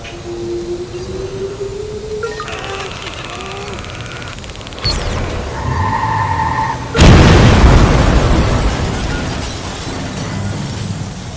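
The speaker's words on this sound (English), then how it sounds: "That was a big kaboom." A huge in-game explosion in Watch Dogs 2 erupts as one sudden, loud, wide blast that rumbles on and fades slowly, following scattered game noises and tones.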